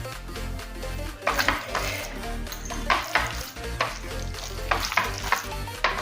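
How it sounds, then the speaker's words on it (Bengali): Pumpkin, raw onion and fried onion and garlic being mixed together for pumpkin bharta, with repeated scraping and stirring strokes of a utensil against a pan over a soft sizzle, close and steady, with no talking. "এখন কাঁচা পেঁয়াজ আর কুমড়ো আর এই ভেজে রাখা পেঁয়াজ, রসুন সব কিছু খুব ভালোভাবে মিশিয়ে নেব।"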